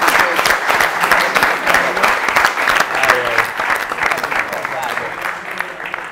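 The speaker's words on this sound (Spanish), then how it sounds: "Un aplauso para ellos." Sustained audience applause at a live gala event, dense steady clapping from a crowd lasting throughout, loud and close with a faint voice occasionally underneath.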